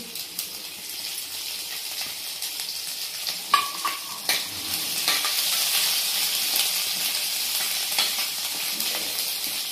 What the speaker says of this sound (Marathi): नंतर हे आले लसणाची पेस्ट आहे ती टाकून घेते.